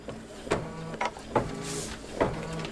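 Multi-needle embroidery machine stitching the outline of a lazy daisy on a quilt block, giving a steady mechanical hum with four evenly spaced louder clacks, close and alone.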